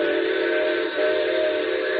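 A loud, steady steam train whistle blows continuously, a sustained harmonic tone with a slight dip in the middle, with no talking.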